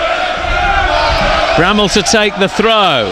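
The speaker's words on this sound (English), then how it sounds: "Crowd doing their bit. Kenilworth End encouraging the team" Football crowd at Kenilworth Road roars steadily behind a close commentator's voice, with a surge of chanting and shouts rising as Luton Town fans encourage their team during an FA Cup match against Forest Green Rovers.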